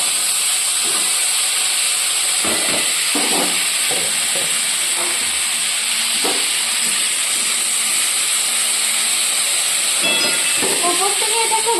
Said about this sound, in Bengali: এরপর আলুটাকে খুব ভালো করে ভেজে নেব